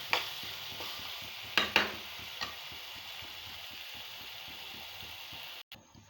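Tamarind pulp gravy for egg pulusu simmering and sizzling in a pan, with a soft steady bubbling hiss, a few sharp clinks of a stirring spoon against the pan, and no talking.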